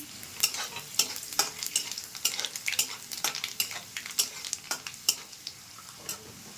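Dry chili, garlic and nigella seeds fry in oil in a pan, giving a steady soft sizzle with frequent sharp crackles and pops and an occasional stirring scrape, close and moderately loud with no talking.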